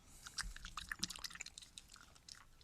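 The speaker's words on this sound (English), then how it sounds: "You have to chew a lot." Close, wet chewing of gum, with irregular soft smacks and squishy mouth sounds repeating for a couple of seconds, quiet and intimate.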